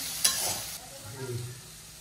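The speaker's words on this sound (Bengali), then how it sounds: "পাস্তা ভাজা চলছে" Pasta with potato frying in a pan, a soft steady sizzle with a brief stirring clatter near the start, fairly quiet and close.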